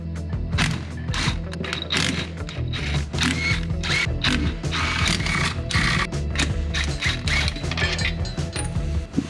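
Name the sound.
removing Mustang bell housing bolts with a wrench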